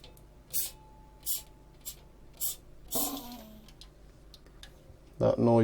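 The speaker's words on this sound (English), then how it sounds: "that noise you just heard there was the vent, this vent blowing off." A sharp hiss of lighter gas venting from a radiation contamination meter's pressure vent bursts out midway, preceded by several soft clicks, with a louder clattering burst at the end.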